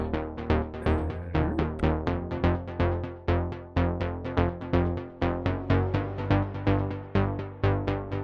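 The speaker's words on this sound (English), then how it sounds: "it's the higher bass really, sounds like this. So it's just a diva patch" A higher synth bass from a tweaked Diva preset, run through an echo effect, pulses in a steady rapid stream of plucked notes, loud and alone in a melodic house track.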